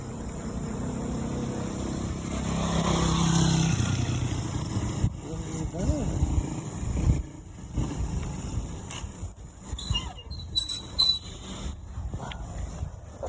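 A motorcycle engine hums and swells as it passes nearby, mixed with wind and outdoor rumble, then fades into scattered handling noises.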